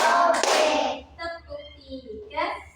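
A classroom clapping game with a burst of hand claps at the start, followed by a short stretch of spoken chant.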